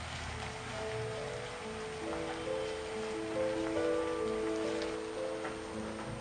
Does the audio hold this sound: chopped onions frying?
yes